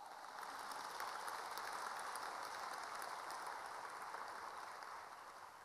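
An audience at a Spanish-language church seminar applauds, a faint but continuous patter of many hands that stays steady and tapers slightly at the end.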